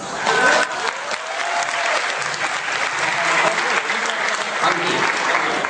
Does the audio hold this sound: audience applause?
yes